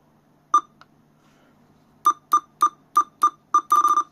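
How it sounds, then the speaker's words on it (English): Key beeps from a President Grant 2 AM/FM SSB CB radio: a single short beep, a pause, then a quick run of about seven close, crisp beeps with no talking. "Key beep."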